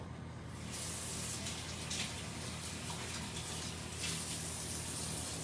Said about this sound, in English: quickly wash my hands